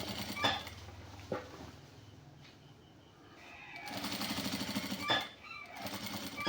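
A sewing machine stitches a side pocket onto a shirt, its motor whirring in a steady drone with short bumps. It slows and goes quiet midway, then runs loud and fast again.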